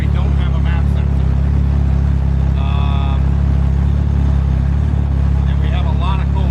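A Honda K20 engine with a faulty map sensor idles loud and close with a stumbly, uneven drone, and brief higher-pitched sounds break in over it.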